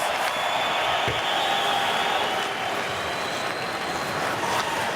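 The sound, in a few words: ice hockey arena crowd cheering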